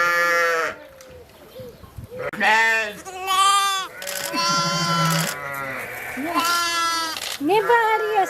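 Sheep bleating, right after a ewe gave birth to six lambs: repeated loud, wavering bleats in close succession, with people talking at times between and over them.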